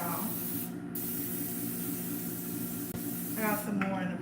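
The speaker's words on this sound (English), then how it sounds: "We're gonna spray that down as well." Cooking spray hisses onto a pan while fish and spaghetti are being prepared, a steady close spray lasting most of the few seconds, with brief voices near the end.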